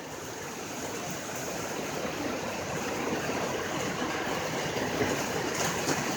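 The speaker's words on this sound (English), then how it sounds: "Hear that powerful rain?" Heavy rain pours down outside, a dense continuous hiss and patter that stays loud and even throughout.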